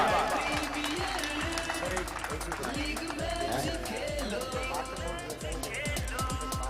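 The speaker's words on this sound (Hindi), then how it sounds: "बजाओ तालियां एक बार" Crowd clapping at a cricket league closing ceremony, dense rapid claps from a large outdoor audience, loud and continuous, with a speaker's voice and music in the background.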